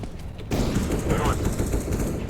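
Rapid gunfire from the Counter-Strike video game rattles in a dense, loud burst of shots, with a voice talking over the shooting.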